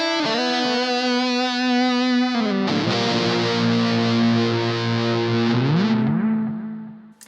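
Electric guitar through heavy distortion on a Line 6 HX Effects unit with delay switched on, a sustained metal chord and slide that smear into echoing repeats before fading out at the end, loud and alone.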